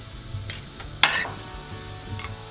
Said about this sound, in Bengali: এবার এটাকে সুন্দর করে ভেজে নিব, বেরেস্ট করে নিব।